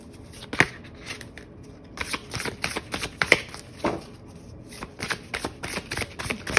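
Tarot cards are shuffled close up in repeated crisp riffling bursts with short pauses between them, and a few sharper snaps stand out.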